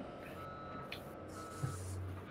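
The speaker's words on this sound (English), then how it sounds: "Thank God for those backup beeps" Faint, steady reversing beeps from a logging truck in a farming video game repeat at an even pace over a low engine rumble, with a brief hiss of an air brake.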